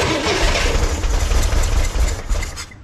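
A 1963 Corvair engine runs with some throttle applied, a loud, rough, rumbling idle with uneven surges and sputters, close up, tapering slightly at the end, with no talking.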